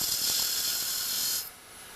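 Detail gouge cutting a spinning wooden finial on a lathe, a steady bright hissing shear of tool on wood lasting over a second before it stops, leaving a faint hum.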